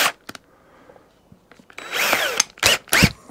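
Short bursts of a power drill whirring in quick succession, loud and close, with a longer rising spin and a few brief clicks between, while fitting a tiller to a strimmer.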